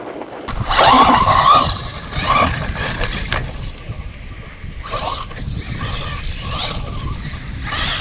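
A Bezgar HP141 RC boat runs at 75% throttle on open water, its motor whining loudly and steadily over wind and water noise, surging in places as the hull bounces across the surface.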